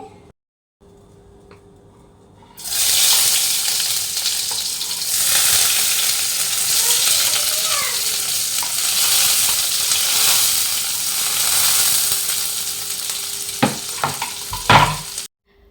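Green chili, garlic, onion and tomato fry in hot oil with a steady, loud sizzle that starts abruptly after a quiet moment and runs on, with a few sharp clinks of stirring near the end.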